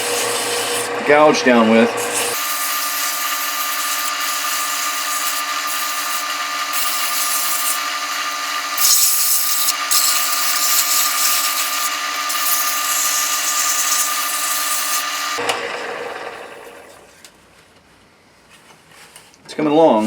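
A steady, loud rasping hum from 220-grit scrap sandpaper working a part during an MSR Whisperlite stove repair, running continuously for about thirteen seconds before fading, with brief talk before and after.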